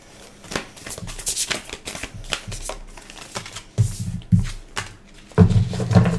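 A deck of tarot cards is shuffled close by, giving repeated riffling bursts and flaps that swell louder toward the end, with no talking.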